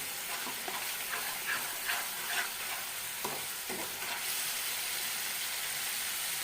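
Spice masala fries in a pan with coriander and cumin powder while being stirred, a soft sizzle and hiss with scraping strokes in the first few seconds, quiet and close with no talk.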